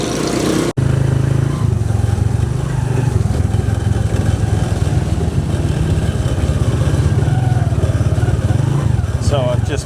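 A motorcycle trike on the streets of Angeles City drones loud and close for the whole stretch, its engine throbbing steadily with small surges in revs.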